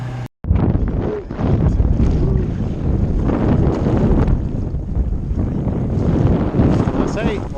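A small sailing dinghy moving across open water off Mauritius in wind. Loud, steady wind buffets the microphone along with water rush, and people talk throughout.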